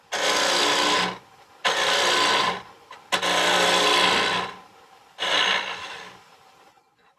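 A woodturning tool cuts into a spinning bowl on a lathe in four separate passes, each a loud, close, hissing scrape lasting about a second with short quiet gaps between them.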